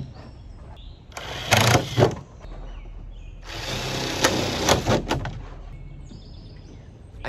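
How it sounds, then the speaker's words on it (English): A power drill bores drainage holes through the bottom of a container, likely a plastic tote, for a junk container garden: two loud whirring bursts, a short one then a longer one, close by with no talking. "So let me drill some holes in the bottom."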